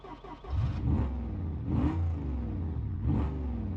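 A car engine starting and revving in the BeamNG driving game, an old car long left sitting: low engine rumble with three rising revs, close and fairly loud, no talking.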